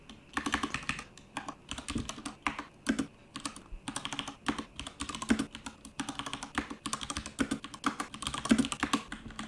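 Steady computer keyboard typing, fast irregular keystrokes close up, continuing alone while test code is written for an 8-bit pipelined CPU project.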